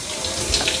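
Tap water runs steadily into a sink as a face is rinsed during a skincare routine, a close, continuous splashing flow with no talk.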